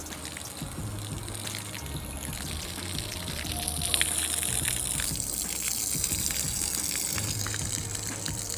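Steady water gushes and flows across a farm field during irrigation, a continuous rushing wash with a low pumping hum beneath it, loud and close with no voices.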